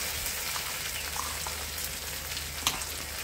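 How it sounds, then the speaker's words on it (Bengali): Blended dried fish and dried chili paste fries with cumin seeds in hot oil, a dense, even crackling sizzle held close and steady throughout, with one brief click near the end. "জিরাটা ফুটে আসলে তারপর যে শুটকি, শুকনা মরিচ ব্লেন্ড করে রেখেছিলাম সেগুলো দিয়ে দিচ্ছি"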